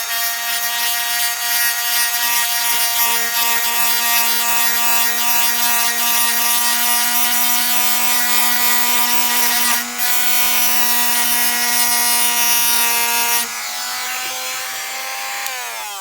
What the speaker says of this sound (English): Ground it down as far as I dare with the multi-tool